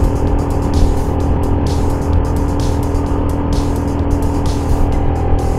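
Automatic scooter engine grinding up a steep, extreme mountain road in Wonosobo, a loud sustained drone with steady low harmonics and repeated rhythmic bursts of high hiss, close and continuous.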